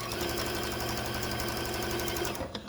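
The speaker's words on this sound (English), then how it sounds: "we'll just put those on and sew across" Sewing machine stitching across a quilt block, a steady fast mechanical whir running loud and alone before stopping abruptly near the end.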